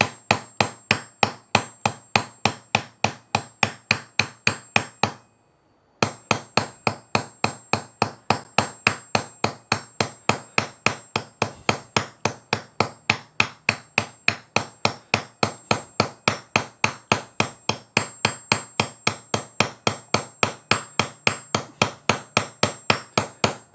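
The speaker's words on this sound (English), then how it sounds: "They're not huge, violent hammer blows." A small hammer taps rapidly and evenly on metal to texture it while box hinges are being fitted, dozens of light, close, crisp strikes in a steady rhythm with one short pause and no talking.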